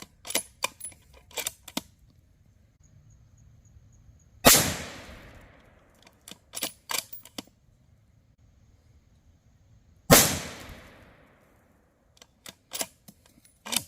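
Savage 110 rifle in 6.5 Creedmoor fired while sighting in: two loud, sharp shots spaced several seconds apart ring out with decaying echoes, between quieter clicks and handling noises of the bolt and gear.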